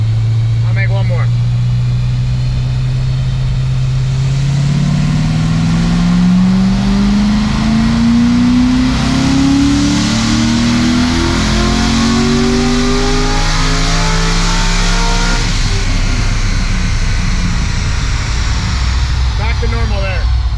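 A 90K-mile LS7 V8 revs up on a dynamometer in a single sustained pull, its loud engine note climbing steadily in pitch before dropping off near the end, with continuous roar throughout.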